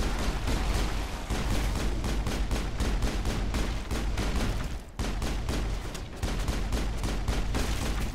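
Rapid, sustained pistol gunfire in the sci-fi video game Mass Effect, set at ExoGeni HQ on Feros, with dense repeated shots packed together loud and close and one brief break midway.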